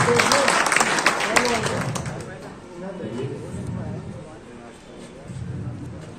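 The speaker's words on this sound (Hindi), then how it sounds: "आपसे दरख्वास्त है कि आप ताली बजाएं" An audience claps at a Samajwadi Party workers' meeting in Kiratpur, a dense burst of applause that gradually thins out, with voices talking over and after it.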